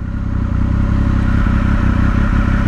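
A Triumph Speed Triple RS motorcycle engine runs close and loud with a steady, throbbing mechanical drone and faint clatter, holding a constant pitch without obvious revving through the short stretch.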